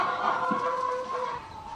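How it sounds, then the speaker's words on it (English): Laying hens in a barn clucking close by, a drawn-out tonal cackle that wavers and sustains through the short moment, with faint shuffling beneath and no talk. "I get the laying hens, yes, I have them all year round"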